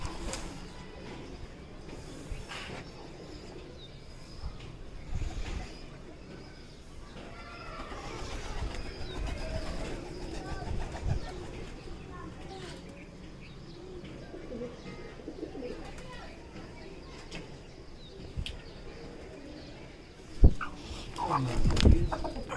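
Pigeons coo softly in a home pigeon setup, low murmuring coos repeating under rustling and scattered background noise, with a brief louder knock near the end.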